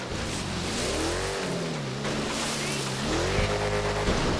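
Engine of a Chevy SS mud truck revving hard while driving through swamp water in GTA 5, a loud, continuous roar that rises and falls in pitch with throttle over splashing.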